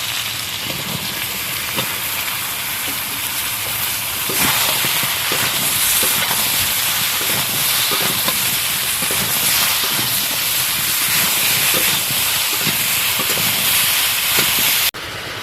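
Ridge gourd tipped into a pan of potatoes already frying with salt and turmeric gives a steady, close, broadband sizzle and hiss that runs on unbroken, with no voices over it.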